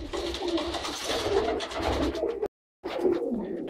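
Pigeons coo steadily in a close, busy chorus inside a pigeon loft, low throaty calls overlapping, with a brief silent gap before the cooing resumes.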